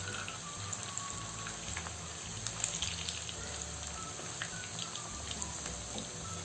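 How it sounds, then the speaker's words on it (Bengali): Potato pakoras fry in hot oil, giving a faint, steady bubbling hiss with scattered light crackles throughout and no voices. "আমার পাকোড়াগুলো ভাজা হয়ে যাচ্ছে।"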